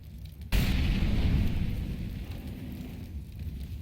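An incendiary molotov thrown in a tactical shooter video game bursts into flames with a sudden whoosh after a brief quiet moment, then a roaring, crackling fire that keeps burning and slowly eases, with no talk.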